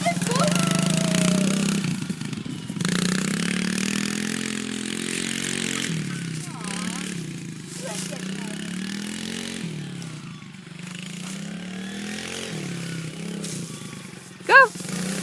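A motorcycle-like engine is given a little throttle and pulls away, rising and falling revs nearby, with people talking and shouting over it and a sharp exclamation near the end.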